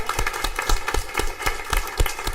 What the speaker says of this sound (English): Can we give another round of applause for Luca?